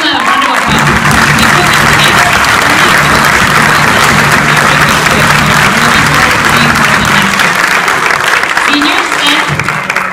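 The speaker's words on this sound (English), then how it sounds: "Please give them a round of applause." Orchestra concert audience breaks into loud, sustained applause honoring youth orchestra members, a thick continuous roar of clapping with a low sustained tone underneath at first.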